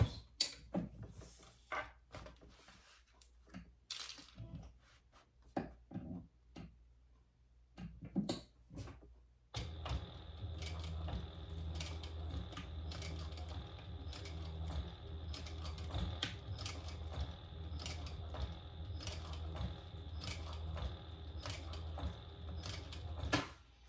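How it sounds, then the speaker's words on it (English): A sewing machine runs slowly through several layers of fabric, stitching a glasses case. Scattered handling clicks and rustles come first, then a steady whirring motor hum with rapid needle ticking continues to the end. "And so I'm going to just sew that."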